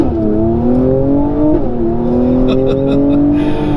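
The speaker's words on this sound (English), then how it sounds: "that sport exhaust you hear from out back" A 2019 Mercedes-AMG C43 Coupe's engine drones loudly through its sport exhaust with a rising, throaty note that dips and climbs again, close and continuous, with faint crackles toward the end.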